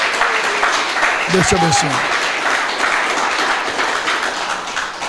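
Congregation applause fills a church service, dense steady clapping throughout with a brief spoken blessing over it near the start.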